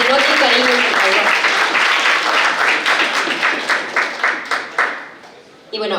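Audience applause for Lobacho at a Spanish-language talk show taping, a loud dense burst of clapping that thins into scattered claps and fades out toward the end.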